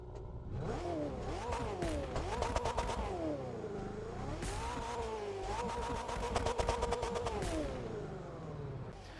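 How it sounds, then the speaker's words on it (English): A Saleen S7 Twin-Turbo engine in the video game The Crew 2 revs repeatedly, pitch climbing and dropping in several loud surges with gear-shift dips, close and unbroken throughout. "let's take a listen to that engine"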